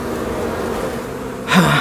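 Arataki honey bees fan their wings at the entrance of a newly hived colony, a low steady hum that swells briefly louder near the end, with no talking.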